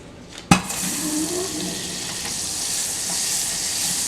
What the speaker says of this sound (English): add butter to our hot saucepan